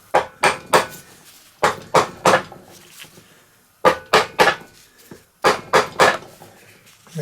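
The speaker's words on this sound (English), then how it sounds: "with the hammer, just give it a little" Close, sharp hammer taps on a Briggs and Stratton 850Pxi engine's replacement sump as it is seated onto its dowels, coming in clusters of two or three strikes separated by short pauses.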